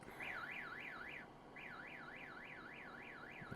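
A vehicle alarm in the farming game Farming Simulator 19 wails in a loud, rapid up-and-down siren sweep, cutting out briefly before resuming the same steady warble, with no voices.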